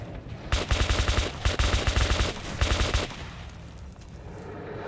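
Automatic gunfire in a first-person shooter video game played solo in tunnels, firing in three rapid bursts of about half a second each, loud and close, with a quieter tail and faint hum between shots; no talking.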